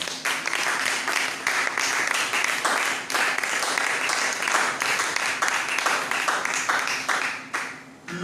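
A church congregation applauds and cheers together in a sustained burst of clapping that runs for several seconds at a fairly even level, then thins out and fades near the end.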